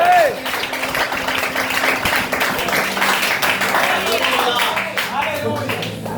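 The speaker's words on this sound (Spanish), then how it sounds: "dale un aplauso al Señor" A church congregation applauds at a service, steady clapping spread across the room for several seconds with raised voices and music mixed in underneath.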